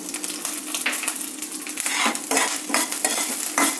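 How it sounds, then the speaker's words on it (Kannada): Ginger, curry leaves, cumin seeds and green chilli frying in hot oil while being stirred, giving a steady close sizzle with scraping stir strokes throughout, no talking. "ಸಣ್ಣದಾಗಿ ಹಚ್ಚಿಟ್ಕೊಂಡಿರೋ ಶುಂಠಿ, ಸ್ವಲ್ಪ ಕಟ್ ಮಾಡಿ ಇಟ್ಕೊಂಡಿರೋ ಕರಿಬೇವು, ಸ್ವಲ್ಪ ಜೀರಿಗೆ, ಸ್ವಲ್ಪ ಹಸಿಮೆಣಸಿನ್ಕಾಯಿ."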